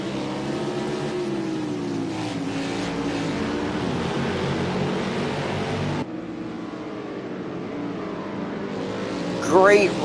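Race car engines drone and shift pitch as the field runs through the carousel at Sonoma, Penske number 22 among them, with steady engine noise heard under a commentator's voice.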